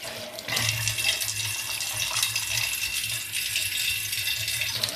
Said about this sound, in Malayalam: ഇനി ഞാനിതിൽ വെള്ളം ഒഴിച്ച് കാണിച്ചു തരാം.